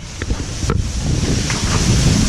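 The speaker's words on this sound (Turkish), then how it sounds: "Aşırı rüzgar var." Strong wind in the Swiss mountains buffets the microphone in a steady, loud roar with gusty fluctuations and no voices.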